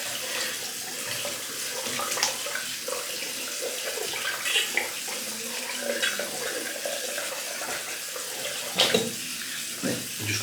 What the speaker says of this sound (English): I'm just going to fill the sink up ready for my face shave